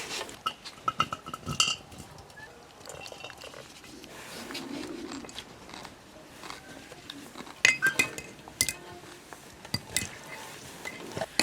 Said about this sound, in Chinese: 拌好了，装在干净的坛子里